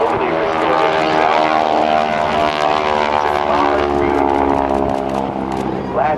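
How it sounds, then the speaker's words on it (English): Propeller aerobatic airplane performing a teaser routine at the 2012 NAS Oceana air show, flown by a pilot who restored it, a loud continuous droning engine roar with steady harmonic whine, sustained close throughout. "is Bill Leff, who has been flying this airplane for 36 years in the air show industry"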